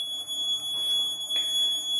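The alarm buzzer of an ARM7-based vehicle accident alert system sounds with a continuous high-pitched electronic tone, steady and fairly faint, over a quiet background.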